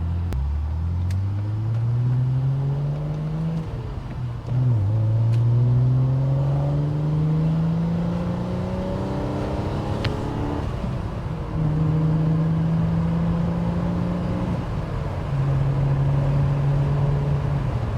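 A 1991 Alfa Romeo Sprint Zagato engine hums loudly and revs up through several rising gear pulls, settling back into a steady drone between each climb, heard close and alone for the whole stretch.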